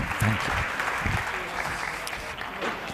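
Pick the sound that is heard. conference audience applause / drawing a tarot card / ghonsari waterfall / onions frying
conference audience applause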